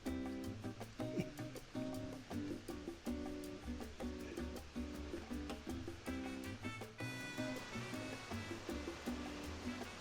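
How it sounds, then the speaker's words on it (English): La Tigra waterfall in Honduras roars as a steady broadband rush of falling water, continuous and fairly close, with thumping and clatter from someone walking nearby on the trail. "We're getting pretty close to the waterfall."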